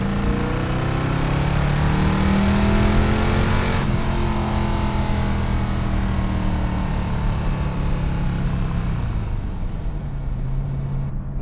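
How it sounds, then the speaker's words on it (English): A 1960s Iso Grifo sports car engine pulls hard and continuously, its tone rising as it accelerates, then easing and rising again, loud and close from inside the cabin without talk. "This is a seriously fast car."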